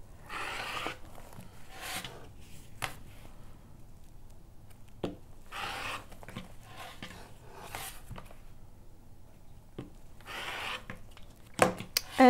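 Scissors trimming a quilted piece of fabric with a backing layer, heard as a series of short, soft rasping snips in irregular bursts with quiet pauses between. The sound is close and faint, with a sharper click near the end.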